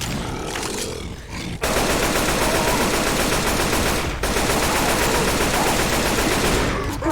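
Sustained rapid automatic gunfire in Left 4 Dead 2 during a zombie finale, loud and dense, with a brief drop near the start and a short break midway before the shooting resumes.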